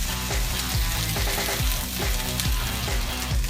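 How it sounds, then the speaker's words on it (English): Steady, loud sizzling of root vegetables frying in a hot pan, with faint scraping or stirring knocks recurring throughout. "Toss these bad boys right in there, get a nice sizzle going."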